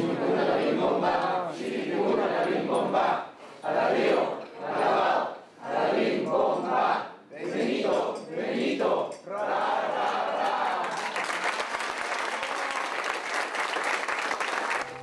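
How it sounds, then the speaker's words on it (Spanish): Mourners at the close of actor Benito Castro's religious funeral ceremony break into bursts of rhythmic chanting, then sustained, loud applause. Voices rise and pause in repeated phrases before a dense wall of clapping takes over. "La ceremonia religiosa finalizó con efusivos aplausos y una porra"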